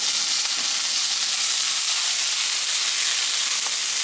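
Pork trimmings and pumpkin sauté in a hot pan, a dense, loud, even sizzle with steam hissing throughout and no breaks, close by and without any voices.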